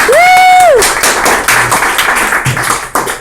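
An audience applauds a comedian, David Hable, at a comedy show: a dense burst of clapping opens with a sharp cheering whistle, then thins into scattered, uneven claps that gradually fade.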